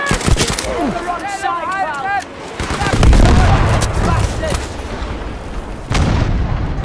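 Tank-battle video game combat: booming cannon and artillery fire with bursts of gunfire, loud and dense, while voices call out in German over the din.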